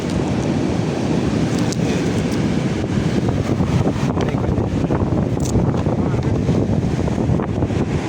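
Hard wind blasting over seaside rocks as the tide rises, a loud steady rumbling roar with surf washing underneath, wind buffeting the microphone throughout.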